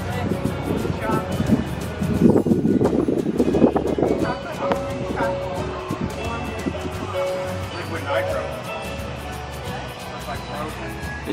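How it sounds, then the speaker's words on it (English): Wind gusting outdoors at a food and wine festival at Walt Disney World, buffeting the microphone with low rumbling bursts that peak early on and then ease, while someone talks over it. "Apologize for the wind if it's a little windy outside."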